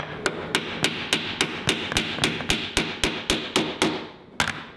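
Old nails hammered back in to repair a pocket door, heard as a steady run of about fifteen sharp, evenly spaced hammer strikes, close and alone, with a short pause before the last blow.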